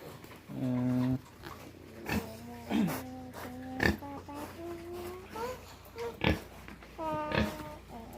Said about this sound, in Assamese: এয়া গাহৰিসমূহ।